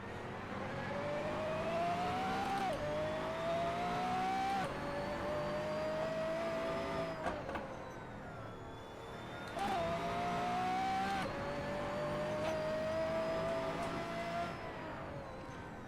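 Race car engine in Assetto Corsa on the Nürburgring, revving high and steady with rising pitch sweeps, sharp drops at gear shifts, and a brief dip before climbing again, loud and continuous throughout.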